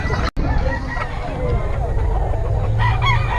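Young gamecock stags crow loudly at close range, several overlapping calls over a busy background of crowd chatter and voices.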